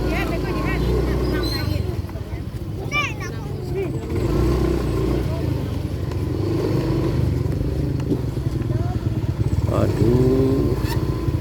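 A jammed, crowded road in Indonesia packed with motorcycles and other vehicles, engines idling and revving in a constant nearby drone, with people talking over the traffic throughout.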